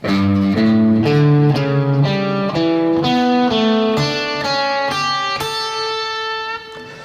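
A distorted electric guitar plays a hexatonic scale descending note by note at a moderate, even pace, loud and close, with the final note ringing out.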